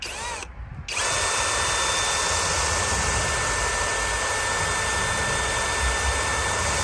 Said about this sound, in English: use this bigger drill bit to try to get the crater started